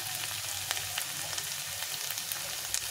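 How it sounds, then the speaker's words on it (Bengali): Turmeric and red chili powder frying in a pan, a soft steady sizzle with faint crackles and pops, heard up close with no talking. "এখন আমি এটাকে ভালো করে ভেজে নেব।"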